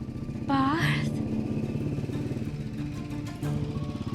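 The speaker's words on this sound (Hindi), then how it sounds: "पार्थ की बाइक की आवाज है" A motorcycle engine rumbles and revs nearby, with a rising whine early on and a steady throaty idle underneath.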